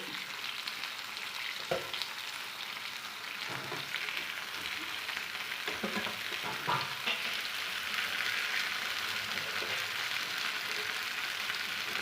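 Garlic fries for mango chutney in a pan, a steady hiss of frying oil running throughout, broken by a few soft scraping thumps as it is stirred, with no talking.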